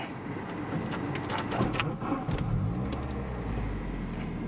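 A 1991 Saab 900 Turbo 16S engine, heard from inside the car, cranks and fires, then settles into a steady low idle rumble.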